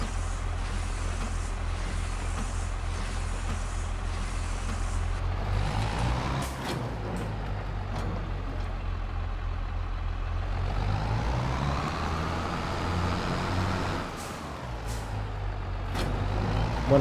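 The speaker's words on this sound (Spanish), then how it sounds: "Sonidos del propio motor." A truck engine in the video game Farming Simulator 23 rumbles at a steady idle, with sharp air-brake hisses and faint beeps breaking in partway through. The engine rises and dips slightly, and no one talks.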